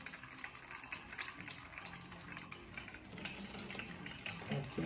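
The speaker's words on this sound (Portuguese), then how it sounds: "Estou usando aqui, ó, o movimento da manivela." A hand-cranked toy fan built as a classroom robotics kit turns its propeller, making a steady whirring, rattling churn of plastic parts that grows a little louder toward the end.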